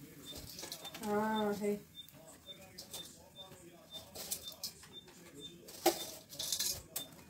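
Noodles with masala are stirred in a pan for street-style veg noodles, making soft scraping and clinking of the spoon against metal, with a brief voice and faint background chirps.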